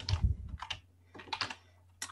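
Typing on a computer keyboard during a command-line session, a few quick clusters of close key clicks separated by short pauses, with no talk.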